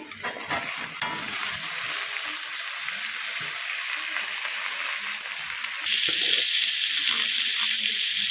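Chopped ginger, onion and capsicum frying in a pan: a loud, dense, hissing sizzle that carries on steadily and eases off somewhat about two-thirds through, with light stirring sounds and no speech.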